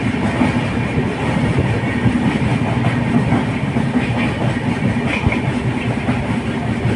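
A train rolls past at close range, a steady broadband rumble with faint rhythmic clatter from the wheels on the rails that holds at a constant level throughout, with no voices over it.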